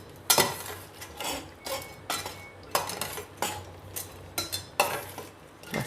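A spoon stirs jalebi batter in a bowl, producing a series of wet, sloshing scrapes with faint clinks against the side, repeating in an uneven rhythm of about a dozen close strokes.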